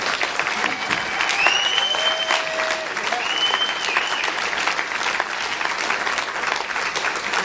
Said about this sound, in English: Can you just give them some applause?